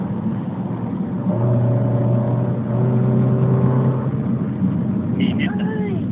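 A Nissan Skyline R34 accelerating through traffic on EDSA, its engine droning and revving up in steady pulls with surrounding traffic noise, while people talk nearby.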